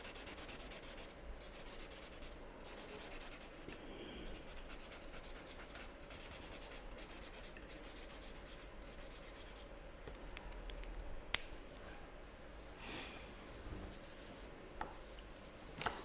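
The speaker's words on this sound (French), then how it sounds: "rajouter encore des tracés." A felt-tip marker scratches and rubs across paper, filling in a background on a drawing of an imaginary bird with steady close strokes and brief pauses.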